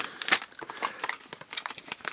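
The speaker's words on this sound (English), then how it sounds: "let's get them all out of these plastic bags" Thin plastic bags crinkle and rustle in quick, uneven bursts close by while mystery pins are unpacked, with no talking.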